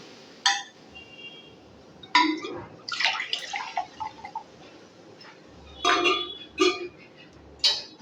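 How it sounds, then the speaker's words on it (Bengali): Two bowls of water are poured into semolina in a pan, short splashing bursts mixed with clinks of the bowl against the pan, fairly quiet and close. "আমি এখানে দুই বাটি জল দেব ওই বাটি দিয়ে"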